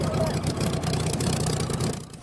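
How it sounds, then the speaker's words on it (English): The Sunbeam 350HP Bluebird car's engine runs loudly and steadily on a sand beach on the South Wales coast, a continuous rumbling roar that fades away at the end. "Bluebird engine hasn't roared like this since the 1920s"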